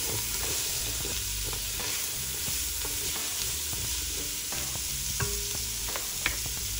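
The Trinity of chopped vegetables cooking down in a pot for red beans and rice, a loud, dense, continuous sizzle with steady stirring scrapes throughout and no talk.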